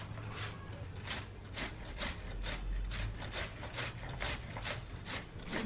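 Cauliflower being grated by hand for paratha stuffing in Delhi, India: a steady, rapid rasping rhythm of back-and-forth strokes, close and continuous, with no talk.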